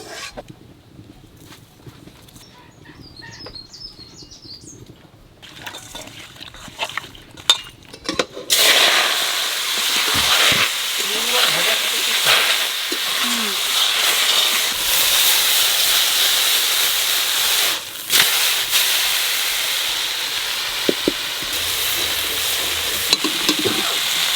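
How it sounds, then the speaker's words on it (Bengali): Fish coated in salt and turmeric frying in hot oil, a steady loud sizzle that bursts in partway through and keeps hissing to the end, with occasional stirring clatter. "মাছে নুন হলুদ মাহাইয়ে একটু বাজিয়ে নেবো"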